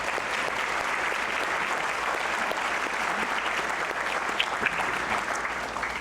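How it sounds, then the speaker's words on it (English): Audience at a fall charity luncheon applauding a development team, a broad, even wash of clapping from a large crowd that holds steady throughout without pause. "Let's please give them one more round of applause."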